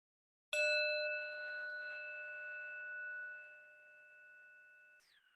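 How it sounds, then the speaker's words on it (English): Single mindfulness meditation bell struck once, a clear bright ring with a long, slowly fading sustain in an otherwise silent room, ending in a faint brief rustle. "We just welcome the sound of the bell."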